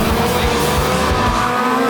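A race car collision with loud, sustained tyre squeal and skidding under roaring engine noise, close and intense, easing off near the end.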